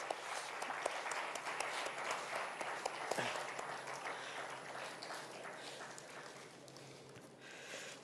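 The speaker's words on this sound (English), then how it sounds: "A huge round of applause." Sustained applause from a large crowd at an industrial die and mould exhibition in India, dense steady clapping that continues for several seconds at moderate distance.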